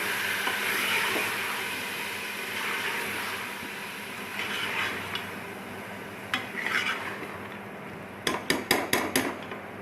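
Chopped onion is stirred into browned mutton in a pan, giving a steady soft scraping and sizzling, ending in a quick run of sharp spoon taps against the pan.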